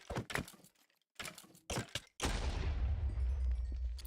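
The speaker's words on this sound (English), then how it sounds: "that was a louder explosion" An explosion in the modded Minecraft pack GTNH: after several short sharp thuds, a loud boom erupts and rolls on as a sustained low rumble that fills the rest of the moment.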